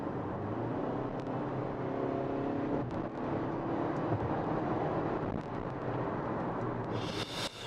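Hyundai Grandeur IG 2.4 accelerating hard in sport mode from about 80 km/h, a steady engine drone and road roar heard from inside the cabin, with no talk.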